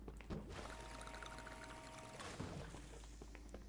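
In the Crime Scene Cleaner video game, water pours into a bucket during a refill, a soft gurgling rush lasting a couple of seconds at low volume, followed by faint splashing.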